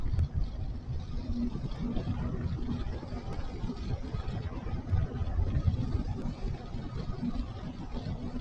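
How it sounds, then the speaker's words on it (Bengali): A motorcycle engine drones steadily as the bike rides through the Sonmarg tunnel in Kashmir, its low rumble echoing continuously and filling the enclosed space at moderate loudness. "আওয়াজ শুনলে মনে হচ্ছে যেন সুপার বাইক যাচ্ছে কোনো রাস্তা দিয়ে"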